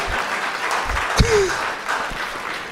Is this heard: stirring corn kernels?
no